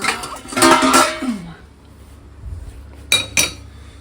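Dishes and cutlery clink in a home kitchen while tea is being made. A couple of sharp, close clinks come near the end, after a brief, faint voice-like sound early on.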